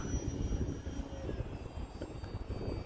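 A Durafly Tundra V2 radio-controlled airplane flies in strong wind, its engine a steady whine buried under heavy, rumbling wind buffeting close to the microphone.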